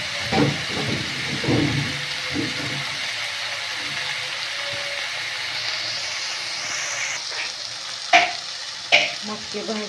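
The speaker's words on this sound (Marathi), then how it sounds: "मटकी भाजते छान असे." Moth beans roasting with tomatoes in a pan, a steady sizzle with stirring scrapes and occasional louder clatters near the end, no speech.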